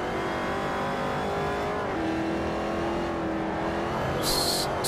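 A modern Mustang race car's engine drones steadily through a lap in Forza Motorsport 4, holding a sustained high note that shifts pitch slightly, with a faint tire squeal near the end and no talking.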